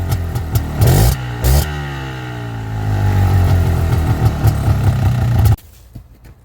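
The stock exhaust of a 2000 Polaris Trailblazer 250 ATV, recorded close up, idles and then revs repeatedly in loud rising bursts before cutting off abruptly into near silence.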